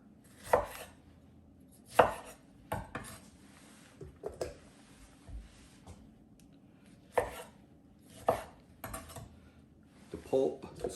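A kitchen knife quarters tomatoes on a board, with roughly nine sharp, separate chops at irregular intervals, close and fairly loud, some with a faint clatter of utensils.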